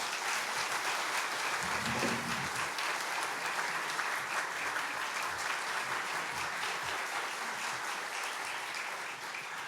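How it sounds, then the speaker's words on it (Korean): Warm, sustained applause from a church congregation at a Sunday worship service welcoming the pastor, a dense even wash of many hands clapping at steady volume from start to finish. "우리 따뜻한 격려 박수로 맞이하도록 하겠습니다"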